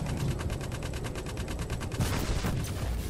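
Rapid, dense gunfire from the Star Citizen Alpha 2.1 video game, a steady stream of shots through the first two seconds followed by heavier blasts, all at a constant loud level with no talk over it.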